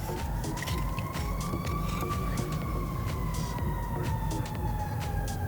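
An emergency vehicle siren wails steadily outside, a loud sustained tone drifting slightly in pitch over a dense rumble of traffic, with no voices heard.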